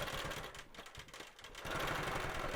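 A longarm quilting machine stitches a quilt border, a quiet, fast mechanical whir with rapid needle chatter that dips briefly and then runs steadier and slightly louder toward the end.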